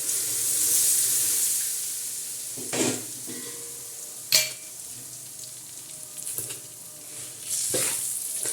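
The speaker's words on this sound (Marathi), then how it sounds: "थोडं थोडं तेल असं त्याच्यावर आपण सोडणार आहोत" Oil trickled over a spice mix for homemade pickle and stirred in, giving a soft sizzling hiss with a few sharp scraping stirs and clinks spread across the stretch, close up and with no voices.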